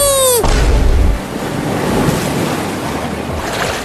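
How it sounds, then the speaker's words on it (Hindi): Loud rushing water and heavy splashing surge through the scene, with a big churning burst early on as a fish drags someone beneath the surface, then a steady turbulent wash of water and wind-like noise. "अरे फिर से मछली ने पानी के अंदर खींच लिया उसे।"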